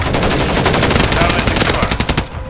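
Dense, continuous machine-gun fire from Call of Duty Modern Warfare 3 gameplay, loud and close, with rapid automatic bursts running almost without pause before cutting off near the end.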